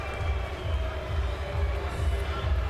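Boxing arena crowd during a professional title fight, a steady low roar of disapproval and booing from many spectators, sustained and fairly loud throughout with no clear individual voices.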